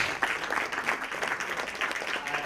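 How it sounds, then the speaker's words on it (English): An audience at a contemporary arts event gives a round of applause, a fairly soft, continuous patter of many hands clapping at moderate distance. "Can we get a big clap, please, for Ori Matarasso, Eddie Dennis,"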